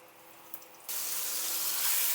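Boiled macaroni for chicken chow mein is tipped into a strainer, and a sudden steady rush of pouring water starts partway through and keeps going without a break, fairly close and moderately loud.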